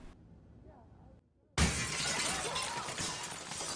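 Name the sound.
window glass shattering in a film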